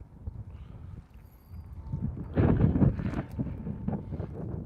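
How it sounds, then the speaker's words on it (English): Gusty desert wind buffets the microphone in a steady low rumble, surging louder around the middle and easing off, with no talking. "The wind keeps blowing my rod out of the rod holder."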